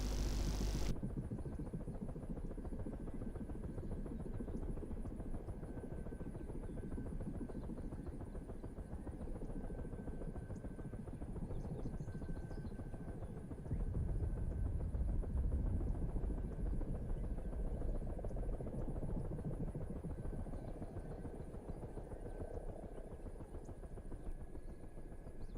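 Aircraft in the DCS flight simulator rolling out after a landing, with a steady loud engine drone and broadband rumble that swells briefly midway, no talking.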